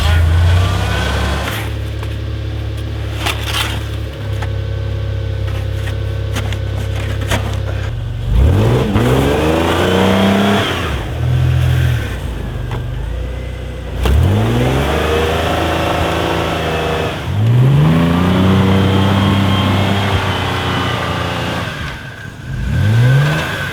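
A truck engine revs repeatedly in surges while reversing out of deep snow on a freezing night, loud and close over a steady idle, with some speech mixed in.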